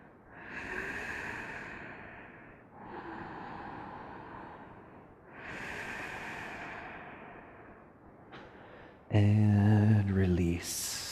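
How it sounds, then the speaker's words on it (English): Slow, deep breaths during a beginner yoga session before Shavasana, long soft airy exhales repeated three times, with a brief tonal sound at the end. "exhale it on down"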